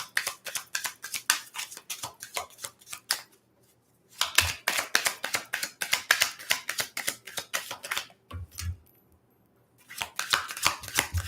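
Tarot cards being shuffled by hand: long runs of rapid, crisp riffling clicks, close and steady, broken by two short pauses, with no talking.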